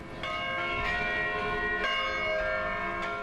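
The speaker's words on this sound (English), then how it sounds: "after those churches rang their bells" Church bells ring at noon in Palmyra, where a church stands on each of the four corners, with overlapping rich metallic tolls sustaining and blending into a loud, continuous wash of ringing.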